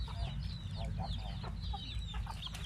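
Chickens on a Thai garden farm raising about a thousand birds, clucking repeatedly in short overlapping calls at close to moderate distance over a constant low rumbling background.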